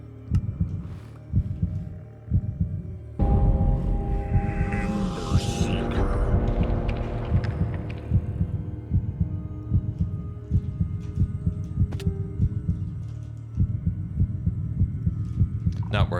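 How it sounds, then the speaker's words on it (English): Heartbeat effect in the Minecraft Decked Out dungeon game, a steady, loud, low throbbing pulse that repeats evenly throughout, with other game sounds layered on top. "I hear a lot of heartbeats."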